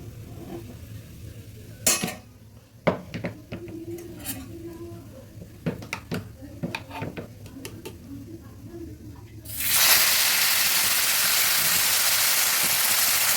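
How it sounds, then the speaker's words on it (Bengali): Ash gourd pieces go into a pan of fried cumin with scattered clinks and scrapes of a utensil against the pan, then a loud, steady sizzle takes over as the vegetables hit the hot oil. "এবার আস্তে আস্তে আমি চাল কুমড়োগুলো দিয়ে দিচ্ছি"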